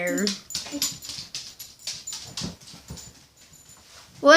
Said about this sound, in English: today we are going to be looking at my new dog